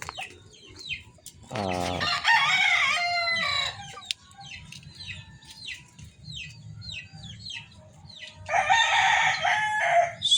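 A Sweater Gray gamefowl rooster crows loudly and close by, once near the start and again near the end, with softer clucking and scattered yard noises in between.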